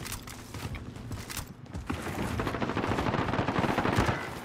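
Rapid bursts of automatic gunfire from the Cleaver gun in a shooter game, close and loud, continuing in dense rattling volleys that grow fuller toward the end, with no talking.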